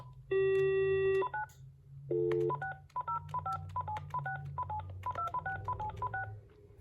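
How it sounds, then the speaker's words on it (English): A series of telephone keypad tones beeps out in quick succession on a cordless phone, preceded by a dial tone, with faint background hum. "So I'll start out by calling the sound quality test line I prefer to use."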